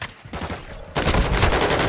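Gunfire rattles in Call of Duty: Modern Warfare II on the Shipment map, with lighter shots first and then a louder, denser burst of rapid fire.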